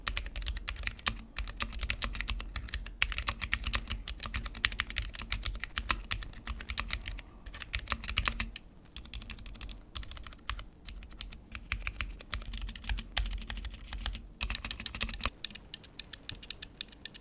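Typing on a Vortex Pok3r v2 mechanical keyboard with double-shot PBT keycaps and slightly rattly stabilizers, a fast, continuous stream of sharp clacking keystrokes with brief pauses, close and alone.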